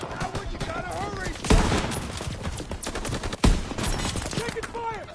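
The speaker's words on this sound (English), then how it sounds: "Taking fire!" Heavy video-game gunfire fills the scene with rapid machine-gun bursts and sharp loud shots, two especially punchy blasts standing out, while voices shout over the fighting.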